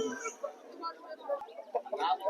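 Hens cluck in short, scattered bursts at a bustling pet and poultry market in Vijayawada, close by and mixed with people talking nearby.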